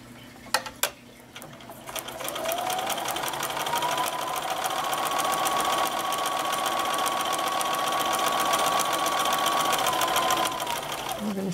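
A sewing machine stitches across a fabric potholder in one steady, continuous run of about eight seconds, loud and close, after a couple of sharp clicks at the start.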